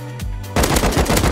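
Video game gunfire: a short low burst, then a loud rapid automatic volley of close, punchy shots rattling on without pause.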